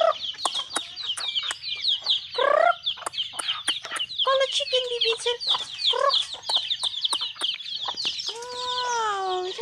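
Chickens cluck close by in quick, uneven bursts, with sharp clucks and a few longer, drawn-out calls. The clucking goes on throughout, and now and then a person's voice mixes in.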